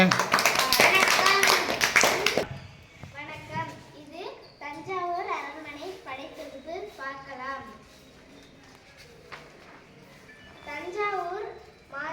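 Children clap in a classroom, a brief loud burst of many small hands at the start, then fades out as someone speaks clearly over the quiet room.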